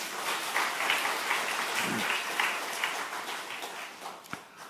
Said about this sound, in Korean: 새가족 교육 수료 축하한다고 한번 박수하겠습니다.